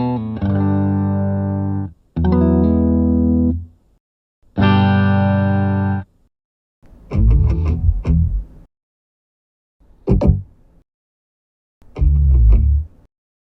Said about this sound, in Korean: 둘 다 전원 켜고 블루투스 페어링하고 전원 끌 때 기타 사운드가 나오는데 한번 들어보시죠